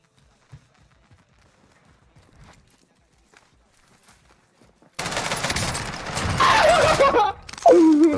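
Video game gunfire erupts partway through after a near-silent stretch, a loud burst of overlapping shots and effects continuing to the end with voices underneath.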